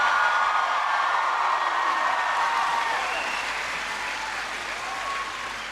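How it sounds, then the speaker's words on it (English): A crowd at an outdoor pavilion rally applauds loudly and continuously, a broad dense roar of clapping that tapers slightly toward the end. "Give him a big round of applause."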